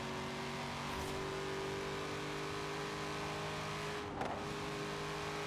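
A Corvette C8 engine in the game Forza Horizon 4 hums steadily at a constant pitch, smooth and sustained throughout, with a brief swell near the end.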